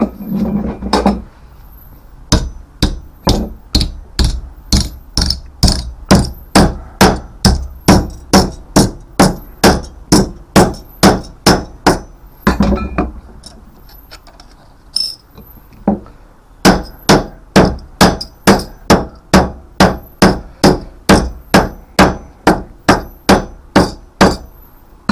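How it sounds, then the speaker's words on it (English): A hammer strikes a flat piece of copper, opened out from 15mm copper pipe, in loud sharp blows close up, falling in a steady rapid rhythm with a few brief pauses. "and get the hammer."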